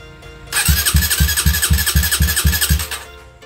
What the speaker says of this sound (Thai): เดี๋ยวจะลองกดสตาร์ทดูนะผมว่าไดสตาร์ทจะทำงานไหมนะ